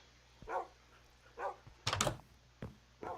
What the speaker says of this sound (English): there's lots of dogs up here.